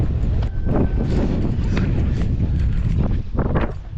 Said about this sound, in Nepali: अलि यहाँ चाहिँ हावा मजाले लागिरहेछ है.